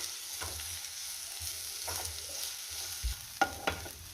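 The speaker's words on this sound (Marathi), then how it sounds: "आता आपल्याला तेलावरती कांदा चांगला लाल होईपर्यंत परतून घ्यायचा आहे। त्यातच मी आलं, लसूण आणि हिरवी मिरची सुद्धा घातलेली आहे।" Onion with ginger, garlic and green chilli frying in oil for misal, a steady low sizzle with soft stirring scrapes and a few sharper clicks of a spoon against the pan near the end, no voices.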